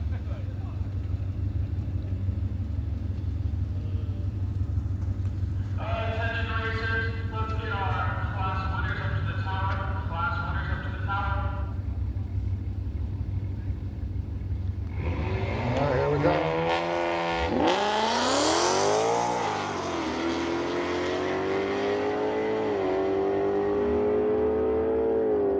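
Cars in a street drag race, including a Tesla Model S Plaid, a Ford Mustang and a BMW M4, idle low before one launches hard with a rising, sweeping roar, while people talk throughout.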